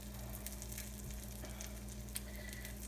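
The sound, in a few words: Glamorgan sausages frying gently on low heat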